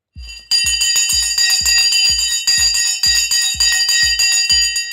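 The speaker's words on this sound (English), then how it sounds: "The bell is off." The stock market opening bell rings continuously and loudly, a rapid repeating metallic clang with a steady regular beat and no voices over it.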